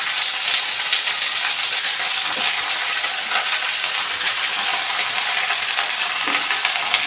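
Vegetables sizzle steadily in hot oil with panch phoron spices, bottle gourd and spinach among them, a dense, even crackle close to the pan that runs without pause.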